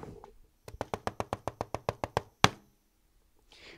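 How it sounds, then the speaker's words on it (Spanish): Knocking on a door, a quick run of about ten even raps followed by one louder single knock, close and clear with no voices. "Sonó la puerta"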